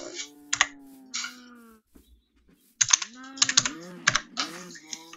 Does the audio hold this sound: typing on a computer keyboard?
yes